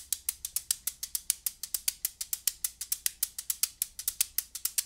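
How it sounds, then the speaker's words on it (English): An abacus shaken as a percussion shaker gives rapid, regular clicking rattles of wooden beads, about five or six strokes per second, close and fairly quiet with no voices. "This is an abacus."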